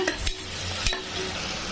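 Ginger garlic paste sizzles and fries in a pan for a biryani, a steady bright hiss broken by a couple of sharp stirring scrapes, close and alone without speech.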